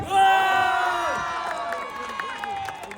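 A crowd of children cheers and shouts together at a school football final, loud and sustained, with overlapping whoops fading slightly toward the end.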